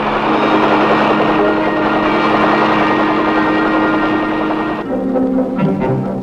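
Military helicopters fly overhead during the Vietnam War, a loud, close, continuous rotor and engine drone with steady tonal hum that shifts briefly near the end.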